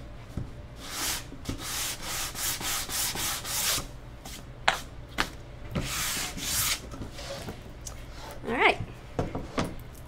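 Sandpaper scrapes over chipped paint on a wooden sign in repeated rough strokes, close and fairly loud, with a few sharper scratches and brief pauses, and a voice briefly heard in the background.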